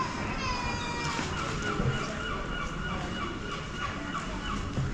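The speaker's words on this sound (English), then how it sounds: "I can still hear the seagulls." Seagulls call over the Weymouth waterfront, their harsh, wavering cries rising above a constant wash of outdoor ambience and distant crowd murmur.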